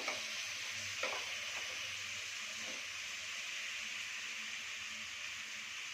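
Chital fish frying in a pan, a soft steady sizzle with a couple of faint utensil knocks near the start.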